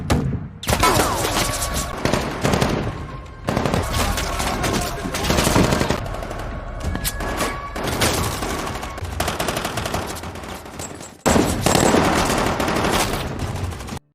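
Machine gun fire in a film battle scene with Taliban fighters, loud dense automatic bursts roaring almost continuously with short breaks, layered with clattering shots and rumble.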